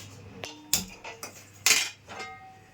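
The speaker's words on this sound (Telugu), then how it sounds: "ఇప్పుడు పలావ్ సరిపోను ఒక గిన్నె పెట్టుకుందాం" Metal cooking pot being set down for pulao, several sharp clinks and clanks of metal on a stove or counter, close and fairly quiet, with no talk.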